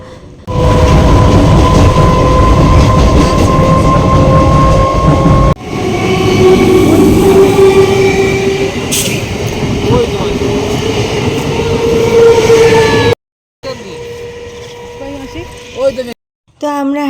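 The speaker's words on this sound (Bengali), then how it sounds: "হাবড়া স্টেশনে নেমে পড়েছি" Train at Habra railway station, rumbling loudly and steadily for about thirteen seconds with rail clatter and a brief high screech midway, then a short quieter stretch of platform noise with voices.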